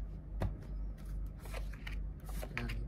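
Goddess oracle cards being shuffled by hand, close and soft, with repeated riffling flutters and papery slides over a quiet background.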